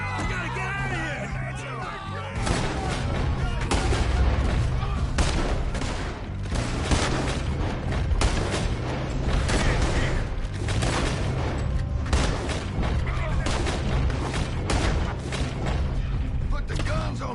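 Rapid bursts of gunfire in a Red Dead Redemption shootout, dense sharp cracks and booms repeating throughout, loud and close, with voices shouting at the start.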